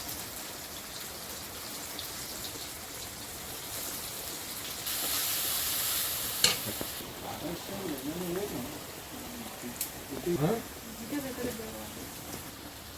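Ginger-garlic paste added to lightly fried chopped onions in hot oil on a rainy day: a steady fine crackle swells into a loud hissing sizzle midway, then settles back, with faint voices nearby.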